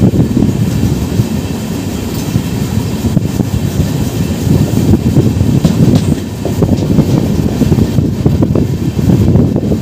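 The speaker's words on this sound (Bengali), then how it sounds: "দ্রুত আমাদের ট্রেন এই মুহূর্তে এসে পৌঁছে গেল হচ্ছে আমাদের দ্বিতীয় স্টপেজ কৃষ্ণনগর সিটি।" The Kolkata to Sairang Express pulls into Krishnanagar City station on its inaugural run, a loud, continuous low rumble of rolling railcars with faint clickety-clack, close and steady throughout without voices.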